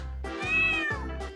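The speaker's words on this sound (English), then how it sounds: "Here is the cat." A cat gives a couple of close, clear meows, rising and falling tonal cries separated by brief pauses.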